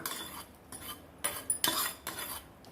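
Spiced tempering with asafoetida and pepper being tipped into Kanchipuram idli batter and mixed, several clinking spoon-against-vessel scrapes and knocks in irregular bursts, close and moderately loud.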